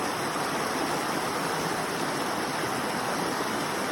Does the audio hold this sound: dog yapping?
no